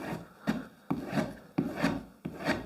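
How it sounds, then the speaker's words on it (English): A knife blade drawn along a leather strop after sharpening on a Scheppach Tiger 3000VS wet grinder: four steady, close rasping strokes, each starting with a soft snap and sliding down in a smooth rubbing sweep, with no talking. "Give it a strop on the leather strop."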